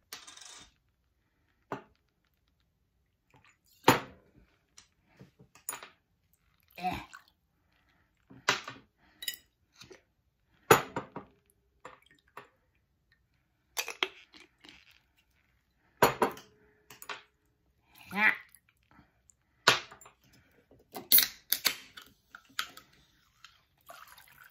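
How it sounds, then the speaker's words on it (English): Scattered clinks and taps of glass and utensils as a vodka drink is mixed, coming in irregular sharp bursts over about twenty-five seconds, fairly close and with no one talking. "so I'm gonna mix that with my, vodka"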